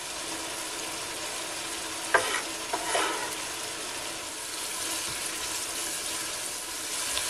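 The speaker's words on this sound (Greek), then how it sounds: "Και σοτάρουμε για 3-4 λεπτά. Θέλουμε να βγάλει υγρασία και να αναδειχθούν λίγο τα αρώματα του κρεμμυδιού." Onions and finely chopped dill sauté in a pan with a continuous, hissing sizzle, broken by a couple of brief stirring clatters early on, then settling into an even fry.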